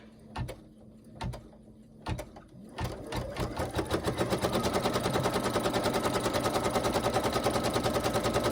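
A sewing machine stitches gnome-print fabric for a hat, starting with a few separate short bursts before settling into a steady, loud, rapid mechanical rhythm that runs continuously to the end.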